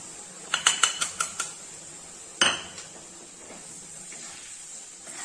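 Gram flour goes into hot ghee in a kadai: a quick run of metallic clinks from a spoon against the pan, then one sharper scrape followed by a faint, fading hiss, with no talking.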